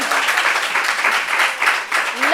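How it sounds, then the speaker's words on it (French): Audience applause at a talk show gathering, a dense continuous patter of many hands clapping close up, swelling and dipping slightly, with voices mixed in. "Est-ce qu'on peut applaudir ça, s'il vous plaît?"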